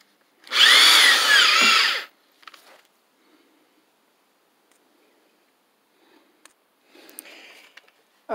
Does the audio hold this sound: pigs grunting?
no